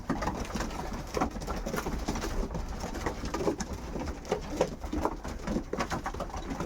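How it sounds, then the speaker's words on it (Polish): Pigeons coo steadily inside a loft while feeding, with soft pecking and shuffling at the grain; close, continuous and moderately loud, with no talking. "I tak sobie tutaj jedzą gołąbki"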